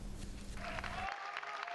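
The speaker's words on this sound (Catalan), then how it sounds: "Amb aplaudiments, així han rebut els treballadors els primers clients d'aquest matí a la botiga Decathlon de Terrassa" Applause from Decathlon store workers in Terrassa greeting the first morning customers, a short burst of steady clapping with some crowd noise, fairly close.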